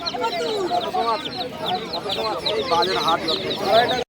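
Turkey chicks peep and chirp continuously at a busy bird market, their high, overlapping calls close and steady over a murmur of background crowd noise.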